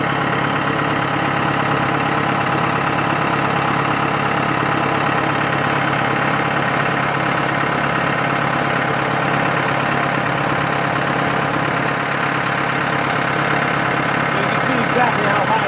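A stump grinder's engine roars steadily and loudly as its wheel chews a tree stump down into chips, a continuous droning mechanical grind with no breaks.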